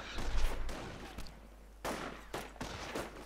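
Video game battle between Volksgrenadiers and riflemen, with bursts of gunfire and sharp shots cracking in quick clusters over a low rumble of combat.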